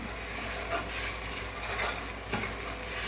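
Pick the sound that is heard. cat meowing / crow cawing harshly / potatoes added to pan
potatoes added to pan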